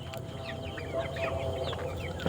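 Native chickens on a home farm cluck in a steady, overlapping murmur, with several hens calling close by over a low background hum and no voices.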